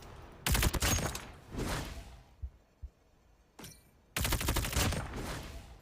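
Type 19 rifle fire and bullet impacts in a video game: loud, close bursts of rapid shots, a shorter burst and a few scattered impact thuds between them, then another sustained volley.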